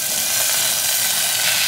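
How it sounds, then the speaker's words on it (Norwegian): Kidney beans hitting hot oil in a cooking pot give a steady, loud, broadband sizzle that holds evenly throughout without pause. "På med litt bønne."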